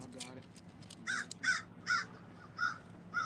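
An outdoor crow at a New Orleans camp caws about six times in a loose rhythm, each call loud and near, with a faint voice briefly heard at the start.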